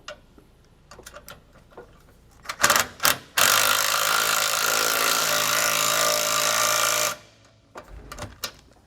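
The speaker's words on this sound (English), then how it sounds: "we'll use a 9/16 socket to run this self-tapper into the hole that we had just drilled" Impact driver with a 9/16 socket sinks a self-tapping bolt into a freshly drilled hole on a 2015 Grand Design Momentum trailer during Roadmaster suspension install: brief taps, then one loud, steady four-second burst of driving noise, close up.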